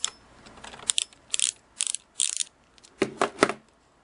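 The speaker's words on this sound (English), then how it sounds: "I'm going to use my little mini ratchet, and make sure I got it in there well." A little mini ratchet loosens a screw on the needle bar vibrating bracket of a Singer 403A sewing machine, making several quick bursts of close, crisp clicking separated by short pauses.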